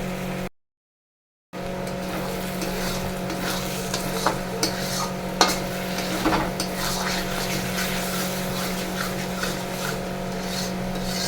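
Potatoes with salt and turmeric being sautéed for a chicken and new potato kosha, a steady close sizzle with occasional stirring scrapes after a brief silent gap near the start, plus a constant low hum underneath.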